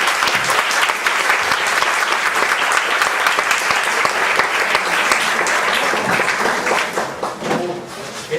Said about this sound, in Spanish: Entonces, un aplauso para ellos.